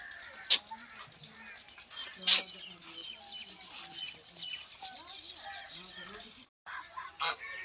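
Half-grown poultry chicks make repeated chirps and peeping calls around a home yard, with a few sharper honk-like squawks. Someone talks over them, and there is a brief gap near the end.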